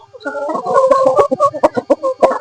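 Hens cluck close by inside a chicken coop, a run of loud, choppy calls and short squawks coming in quick uneven bursts with no voices over them.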